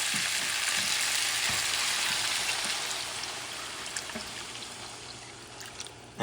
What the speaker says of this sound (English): And time to add the water.